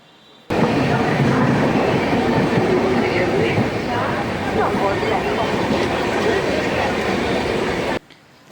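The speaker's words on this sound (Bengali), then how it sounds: "এদিকে আমাদের ট্রেন হাওড়ায় পৌঁছে গেছে।" A train pulls into Howrah station with a loud, continuous rumble of wheels and carriages that fills the whole stretch. It starts abruptly and cuts off near the end.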